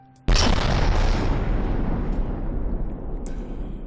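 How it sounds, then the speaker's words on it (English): A single heavy APS cannon shot in the naval combat game From the Depths booms out loud and close, then rolls into a long, slowly fading rumble, with a faint higher clank near the end. "The other way of doing it is by actually firing the gun."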